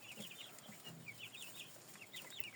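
Chicks of fluffy, bearded and crested breeds cheep in a steady, overlapping chorus, with many soft high peeps continuing throughout at a faint, even level.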